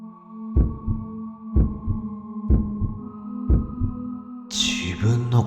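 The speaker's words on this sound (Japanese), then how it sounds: "自分の鼓動か。" Slow, steady heartbeat thumping about once a second, four deep double-beat pulses under a faint steady hum, heard by a person lying cold and cramped under too little cloth on the night of the 3.11 earthquake; a brief rustle follows.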